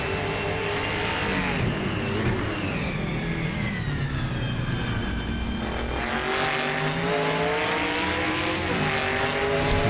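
Touring cars race in a video game on the 1976 Bathurst layout, including an old XE. Engines roar steadily and loudly throughout, rising and falling in pitch as they rev through gear changes, with no voices.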